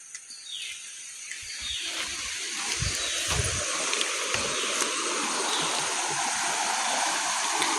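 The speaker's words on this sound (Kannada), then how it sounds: "ಹೊಳೀಲಿ ಎಷ್ಟು ನೀರು ಬಂದಿದೆ ಹೇಳಿ ನೋಡ್ಬನ್ನಿ" A river running full after rain rushes in a steady, broad hiss that swells over the first few seconds, with faint birds and a few low knocks near the start.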